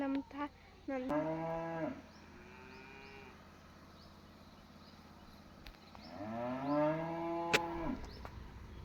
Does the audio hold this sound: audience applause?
no